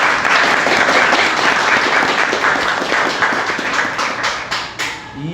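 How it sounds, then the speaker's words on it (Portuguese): An audience at a podcast interview applauds a guest, a former world-champion footballer, with a burst of clapping that starts loud and dense, then thins into scattered claps and fades out. "Gostaria que toda a nossa plateia aí aplaudisse ele por ter vindo."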